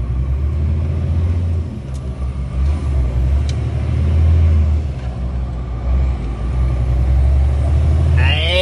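A heavily loaded truck climbs a mountain road with its engine rumbling low and loud and close, a steady grinding drone that swells and dips, while a brief hiss sounds near the end.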